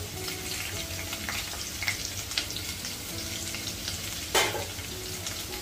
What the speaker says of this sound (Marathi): तेल गरम झाले, यामध्ये 7-8 लसूण पाकळ्या ठेचून घेतलेल्या आहेत, त्या घालायच्या